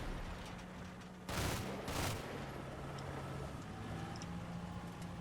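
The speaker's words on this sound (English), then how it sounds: "that is an anti-tank rifle team. I mean, I assume, judging from the single shot going off" Single anti-tank rifle shot in the WWII game Combat Mission Red Thunder, a sharp distant crack followed by a second echoing report, set against a low steady ambient hum.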